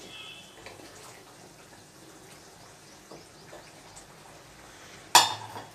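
A spoon stirs a curry simmering with curry leaves in a cooking pot, making soft, faint scrapes and taps before a sudden sharp metallic clink near the end.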